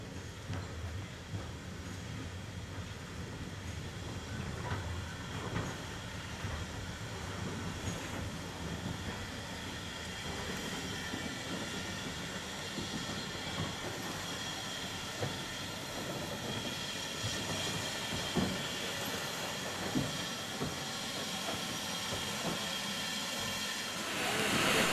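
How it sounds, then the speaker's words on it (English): Locomotive 43106 pulling a passenger service into the down platform at Hampton Loade station on the Severn Valley Railway, a steady rumble of engine and rolling wheels with rhythmic rail clatter throughout. "we find 43106 arriving in the down platform with the 2:15 p.m."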